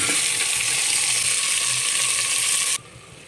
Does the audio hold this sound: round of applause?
no